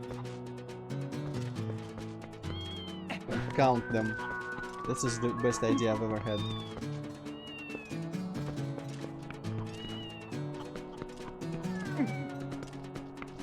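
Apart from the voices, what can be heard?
cats meowing in Twilight Princess video game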